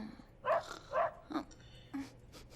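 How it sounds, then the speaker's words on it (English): Dog barking in the Cowboy Bebop anime, several short barks spaced about half a second apart, moderately close, with a brief yip and light background sound between them. "Why is it barking?"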